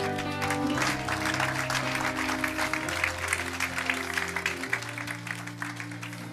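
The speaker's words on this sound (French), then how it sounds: "On acclame le Seigneur." A church congregation applauds and cheers in praise of the Lord, a dense sustained wash of clapping and voices over steady music that continues throughout.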